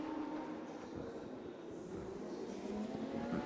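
Lamborghini Super Trofeo race cars leaving the pit lane at Vallelunga, engines droning and whining at moderate distance, a continuous mechanical rumble with rising pitch toward the end.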